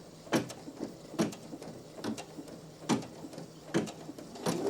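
A Brother PE900 embroidery machine stitches a custom design, giving off sharp, close mechanical clacks in an uneven rhythm with a steady whirring motor beneath.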